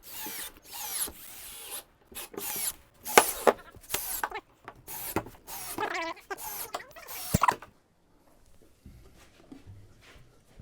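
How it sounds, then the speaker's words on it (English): A power drill drives screws into a wooden RC ramp in short, loud, whirring bursts with brief pauses between them, then falls quiet near the end. "we're gonna put a couple more screws in it to make sure this is really recessed down"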